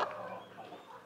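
A small chick clucks and peeps at close range in a brief burst, soft chirps trailing off over about a second.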